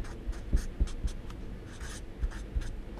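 A pen writes out a calculus solution on paper: soft, irregular scratches and taps as strokes are made, close and fairly quiet.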